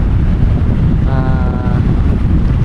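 Heavy, roaring monsoon wind buffeting the microphone over rushing sea waves, a constant loud rumble with a brief tonal hum in the middle.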